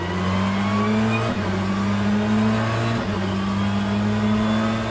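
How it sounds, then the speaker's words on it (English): Deep, steady exhaust drone of a BTCC touring car in the rFactor 2 racing sim at Croft, a loud continuous engine note holding pitch with two brief dips as it shifts, no talk over it. "The car also has a noticeably distinctive exhaust note"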